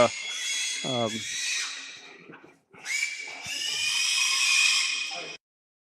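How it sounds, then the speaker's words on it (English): Shrill, drawn-out screaming squeals carry loudly through the background at a farm livestock sale, rising in long bursts with a short gap between, mixed with speech. "We had a little screaming in the background."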